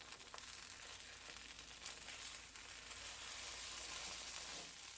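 Cold corn tortillas dipped in enchilada sauce fry on a griddle, giving a steady, faint, continuous sizzle with light crackle and no voices.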